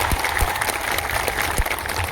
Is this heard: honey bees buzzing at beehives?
no